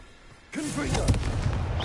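A Confringo blasting spell erupts in Hogwarts Legacy, a sudden booming burst that kicks in midway and rumbles on with crackling debris, a voice sounding briefly over the blast.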